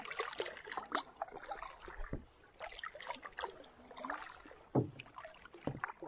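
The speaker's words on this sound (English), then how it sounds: "I was just telling Logan, this is one of my most favorite paddles we've ever done." Canoe paddling on a calm, windless snowy lake, with soft intermittent paddle strokes and water dribbles close by, a few sharper knocks of paddle on hull, and no talk.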